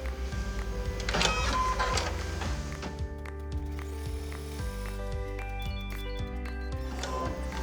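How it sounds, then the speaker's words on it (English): Embroidery machine running a tack down stitch on a poppies gift bag. Its needle beats out a fast, steady mechanical chatter, with a brief louder rattle near the start, and continues evenly throughout with no talking. "we're going to run the tack down stitch."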